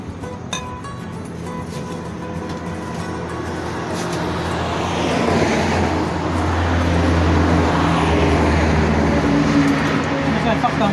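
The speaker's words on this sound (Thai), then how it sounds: "เดี๋ยวนี้รถบรรทุกจะเสียงดังหน่อยนะ" Steady low rumble of heavy road traffic building up as a large truck passes near a roadside shaved-ice shop in Nakhon Si Thammarat, Thailand, with people talking over the engine noise.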